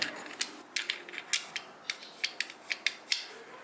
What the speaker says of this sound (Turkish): siz kolu çektiğiniz zaman bu mekanizmayı ileri itiyor